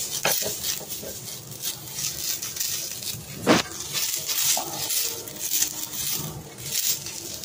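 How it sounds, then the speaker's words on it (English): Oil or ghee is spread over a hot iron dosa pan on a high flame, giving soft scraping and stirring scuffs with light metallic clinks. There is one sharper scrape partway through. "Add either ghee or oil, one drop. Then spread this on the pan evenly."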